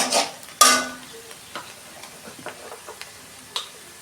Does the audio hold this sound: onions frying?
yes